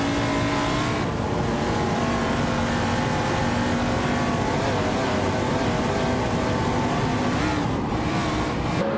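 Race cars speeding together in a racing video game, a dense sustained engine roar with layered whining tones from several cars, loud and continuous throughout.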